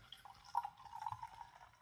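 Temple Cider medium dry cider is poured into a glass, a soft, close liquid trickle and glug with faint bubbling that rises and falls over a couple of seconds.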